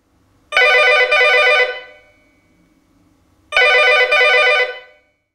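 A Geemarc CL600 corded telephone rings loudly and close by, in two separate trilling bursts of about a second and a half each, with a pause between them and no one talking.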